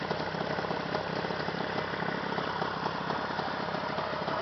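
Steady idle of a Jawa 638 motorcycle engine with a dry, dusty motor, heard up close as an unbroken throbbing hum with faint vibration and no talking.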